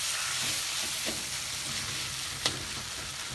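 Beef sizzles and fries in a pan, a loud, steady crackling hiss with a few sharper pops and stirring scrapes close by.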